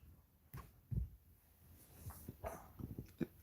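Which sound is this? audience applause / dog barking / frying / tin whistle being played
dog barking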